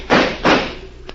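Two loud gunshots fired at a steel door's lock in a vintage radio drama land in quick succession, followed by a fainter small click or tap.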